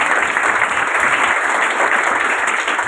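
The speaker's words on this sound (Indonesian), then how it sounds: "Kita kasih tepuk tangan sekali lagi." Loud, dense applause from an audience at a church gathering fills the whole moment, many hands clapping together at a steady, unbroken level with no voices over it.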